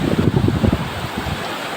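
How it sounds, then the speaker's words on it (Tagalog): Strong typhoon wind roars against the microphone, buffeting hardest in the first second before settling into a steady rushing noise. "napakalakas ng sulong hangin"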